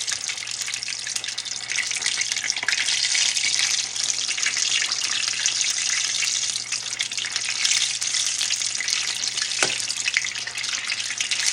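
Fried apple pies sizzling in hot oil, some filling leaking out and making them pop more, a steady loud hiss with occasional small pops throughout and no voice.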